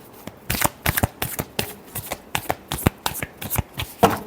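A tarot deck is shuffled by hand up close, producing a quick series of crisp riffling snaps and soft card slaps in an uneven rhythm, with no talk.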